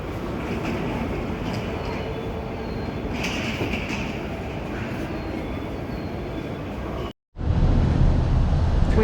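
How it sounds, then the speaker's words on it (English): A train at a station platform in Aomori, Japan, on a blustery winter day: a steady, dense rumble and rush of noise that cuts out abruptly for a moment, then returns louder and deeper. "Waiting on the platform for the O train?"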